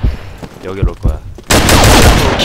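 Rapid airsoft fire from an M14 rifle, a Combat Arms Netty M14 Hunter, crackles in a dense, loud burst during a skirmish, after a stretch of speech and scattered softer pops.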